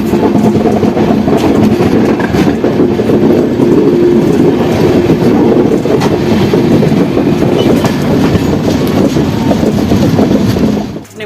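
The Anand Vihar–Jaynagar Garib Rath Express with new LHB coaches runs near Madhubani, a loud continuous rumble with rhythmic wheel clatter heard from inside the coach, steady throughout and fading at the very end.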